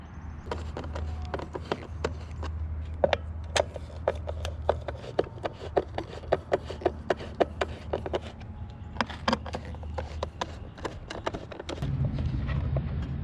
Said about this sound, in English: Now we're going to take off the 3 screws on the outside panel